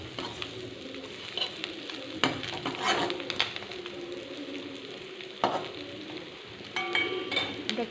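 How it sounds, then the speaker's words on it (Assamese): Fish mixture frying in a pan as it is stirred, a steady close sizzle broken by scraping strokes of the spatula, with a few faint bird calls in the background. "সব মিলাই মিক্স কৰি মই প্ৰায় 2 মিনিটমান ভাজিম"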